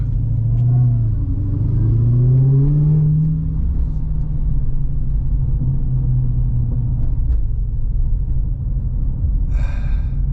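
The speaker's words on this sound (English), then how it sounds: "Listen to the supercharger." A supercharged King Daytona Hellcat engine rumbles loudly and steadily, rising in a rev early on before settling into a deep idle, with a brief high supercharger whine near the end.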